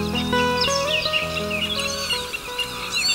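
A common snipe calls a repeated ticking tücke-tücke from the ground in a Polish marsh, mixed with other chirping and whistling bird calls in a busy outdoor chorus.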